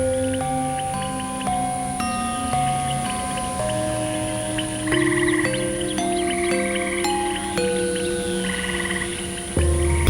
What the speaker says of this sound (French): la grenouille arboricole annonce à toute la jungle l'imminence de la pluie